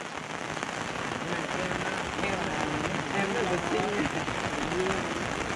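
Steady rain falls outdoors in the Vietnamese countryside, a dense continuous patter on surfaces, while voices talk faintly underneath.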